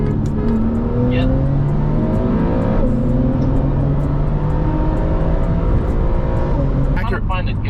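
A tuned Stage 2 Porsche 911 Carrera 991.2 accelerates hard through the gears, its engine note climbing loud and close with a clear upshift partway and another near the end, heard from inside the car.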